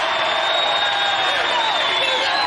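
Large arena crowd at a celebrity wrestling show roars and cheers steadily and loudly throughout, with whoops rising out of the dense wash of voices.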